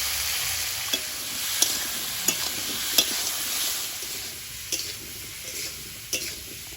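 Vegetables sizzle steadily in a hot pan with nigella seeds and slit green chillies while a utensil scrapes and taps against it now and then; close by, no voices.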